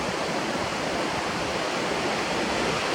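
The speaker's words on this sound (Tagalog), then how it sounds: "Mao ni diri ang river." A river at Lava Mountain River Resort in Busay, Cebu City, rushes in a steady, dense roar of flowing water, close and loud. The sound is continuous and unbroken, with no voices.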